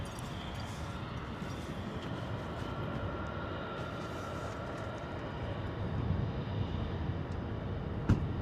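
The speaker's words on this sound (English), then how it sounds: "We go power set on the Wizz Air 321neo." A Wizz Air Airbus A321neo jet spooling to takeoff power on a frosty runway, a distant, steady low roar with a faint high whine that thickens slightly toward the end, heard from afar without speech.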